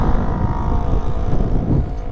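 Engine of a Voge SR150 GT scooter turning over and running via its start-stop system, a steady loud low rumble close by with wind buffeting.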